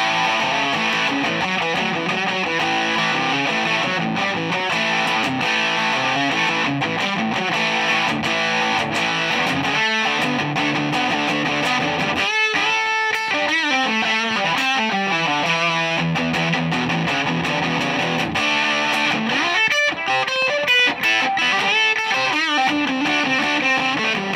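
Heavily distorted electric guitar, a Gibson Les Paul Custom, plays continuously through an amp's distortion channel, sustained crunchy chords with a few brief pauses and sliding notes, loud and up close.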